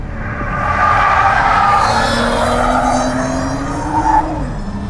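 BMW M240i M Performance coupe on a race track, its engine droning steadily and loudly as it passes, with a rising engine note and a brief tire squeal near the end.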